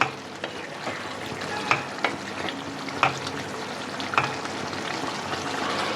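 Kadai chicken being stirred in a frying pan after salt is added, a steady sizzle under repeated scraping and clinking strokes of a spatula, close up with no talking.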